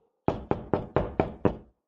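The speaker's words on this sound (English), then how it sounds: "There is another knock at the door." Six sharp knocks on a door come in an even, steady rhythm, each crisp and close with a short decay, standing alone against silence.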